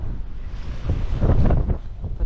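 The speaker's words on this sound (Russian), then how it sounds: "но ветер очень сильный." Strong nor'easter wind buffets the microphone on a nearly empty Gelendzhik beach in October, a loud continuous roar with gusts swelling in the middle and faint surf beneath.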